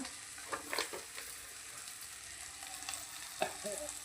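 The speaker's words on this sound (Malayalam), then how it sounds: "ഒരു ഒന്നര സ്പൂണ് മല്ലിപ്പൊടി ഇട്ടിട്ട് നമുക്ക് നന്നായി ഒന്ന് ഇളക്കി വിടാം" Coriander powder being stirred into frying dried fish in a pan: a soft, steady sizzle with a few scraping stirs near the start and one sharper scrape later, quiet overall.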